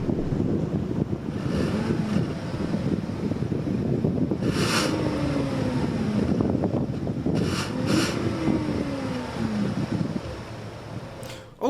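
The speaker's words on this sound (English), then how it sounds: "Now, this is the only engine offered, at least for now. But let's give it a listen." A 2017 Buick LaCrosse's engine runs steadily for about twelve seconds as a low, continuous hum with a few faint rising and falling pitch sweeps, heard alone and partly buffeted by wind.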